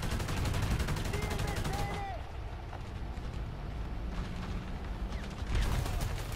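Rapid gunfire crackles in bursts during a tank video game, with loud volleys at the start and the end and a quieter stretch between them, alongside engine rumble and a voice speaking.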